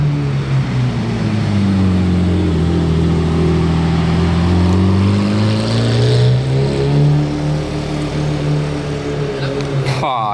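A Lamborghini Murcielago's engine passing along a street in Monaco, a loud, deep droning roar that swells and shifts in pitch as the car goes by, with a person briefly talking.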